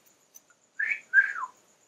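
Two short whistled notes in quick succession, the second sliding downward, clear and close in an otherwise quiet space.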